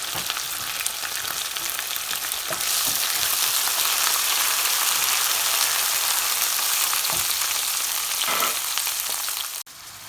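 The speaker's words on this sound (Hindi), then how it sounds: "अब हम इसमें डाल देते हैं 2 चमचे लहसुन अदरक का पेस्ट और मैं इसे अब भून लेती हूँ।" Garlic and ginger paste frying in hot oil in a pan for a lamb and potato curry, giving a loud, steady sizzle that swells partway through, with a brief clatter near the end.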